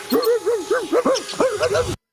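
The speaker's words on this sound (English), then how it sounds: "Does anybody have any idea whose dog that is?" A dog barks in a quick series of yips and whimpering howls, close and fairly loud, heard alone without speech for about two seconds before cutting off.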